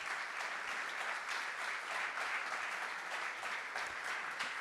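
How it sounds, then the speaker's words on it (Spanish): A conference audience greets a Paralympic athlete with dense, sustained applause, many hands clapping evenly in a continuous wash, fairly distant and unbroken by voices. "Fortísimo aplauso para ella."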